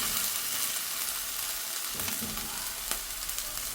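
Loud, steady sizzle of ingredients frying in very hot oil in a clay curry pot, a continuous crackling hiss with a few brief stirring knocks partway through.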